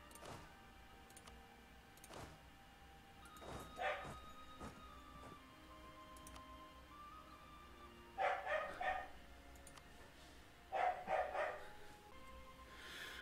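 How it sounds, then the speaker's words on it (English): A pet dog barks in a quiet room at night, sounding as two short clusters of sharp barks around the middle and end, moderately close, over a faint steady background hum. "my dog just decided to attack her food for no reason, and everyone's asleep, so I had to go yell at her"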